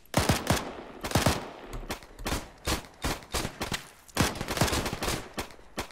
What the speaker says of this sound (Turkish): Şurada bir tanesi var, deli gibi sıkıyor buraya.